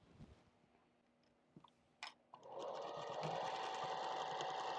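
A few soft clicks and handling noises come first, then a sewing machine starts and runs steadily, stitching fabric squares together with right sides facing at a quarter-inch seam allowance.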